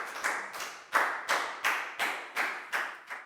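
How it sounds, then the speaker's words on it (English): Classroom of students applauding a classmate, a steady run of about eight rhythmic bursts of hand clapping, close and fairly loud with no talking. "Big round of applause for Nadia too"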